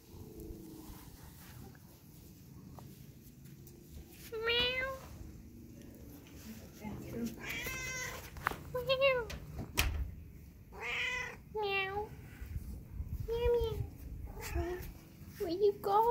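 A cat meows several times at close range, drawn-out and wavering cries spaced across the stretch, alternating with a person talking softly.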